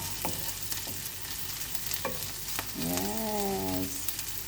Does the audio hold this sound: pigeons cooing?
no